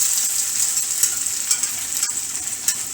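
Zucchini and eggs fry in a pan with a steady, close sizzle and soft crackling pops, constant through the short stretch without any voices.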